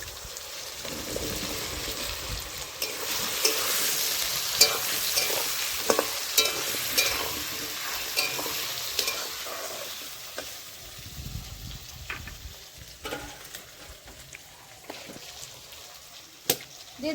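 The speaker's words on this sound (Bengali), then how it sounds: "দিয়ে দিচ্ছি সিদ্ধ করা দেশি আলু" Boiled local potatoes tumble into a hot pan of oil and fry with a steady loud sizzle, broken by scattered clicks and scrapes of stirring as the hiss slowly eases; no speech is heard.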